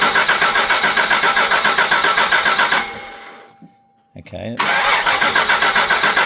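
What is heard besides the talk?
1985 Jaguar XJ6 engine cranking and starting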